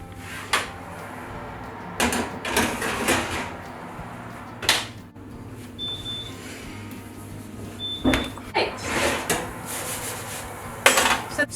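Baked vegetable chips get tossed on a metal baking tray, giving a run of scattered clattering and scraping bursts with sharp tray knocks, close and fairly loud, separated by brief quiet gaps.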